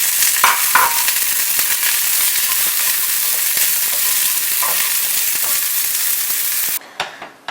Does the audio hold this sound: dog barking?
no